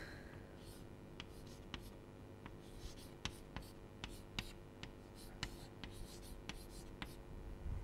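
An equation is written by hand during a lecture on thermodynamics: a run of scratchy strokes and sharp taps at an uneven pace, close and fairly quiet, with a low steady room hum and no talk over it.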